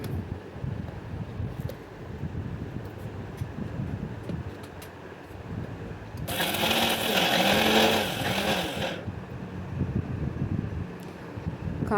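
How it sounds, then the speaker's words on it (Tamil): Mixer grinder whirring as it grinds roasted coconut, dried chilli and garlic into chutney, a loud steady roar running for about three seconds before cutting off, with quieter kitchen background around it. "ஆறின பிறகு மிக்சியில் சேர்த்து அரைச்சிடலாம்"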